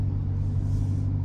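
Deep, steady exhaust rumble from a bagged and boosted Jeep Trackhawk, a loud low throb idling close by with no voices over it.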